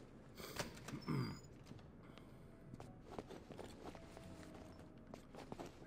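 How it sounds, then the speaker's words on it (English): Footsteps patter through a busy soundscape in the action video game Devil's Third, soft and irregular beneath other game effects, with no voices. "I can hear the footsteps."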